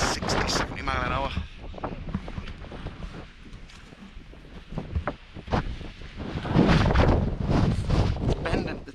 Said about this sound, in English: Gusts were like 60, 70 mile an hour.